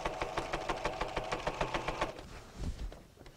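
A sewing machine top-stitches the binding on a quilt, running in a fast, even pulse of stitches for about two seconds before winding down into a few slower, lower thumps, close and clear with no talk.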